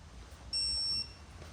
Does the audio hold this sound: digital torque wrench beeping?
yes